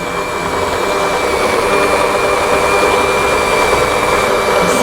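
A KitchenAid hand mixer kneading bread dough at speed 5 gives a loud, steady motor whine with a constant high tone, running unbroken and close by with no voices.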